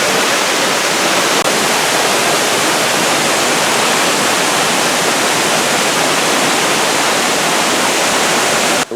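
Waterfall about 40 metres high roars as a dense, loud, continuous rush of falling water, close and unbroken, with no voices over it.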